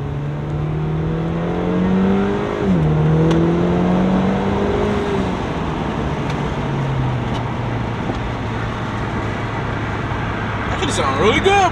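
A Honda car engine revs up, its pitch climbing then dropping as it shifts gears, steady road noise underneath.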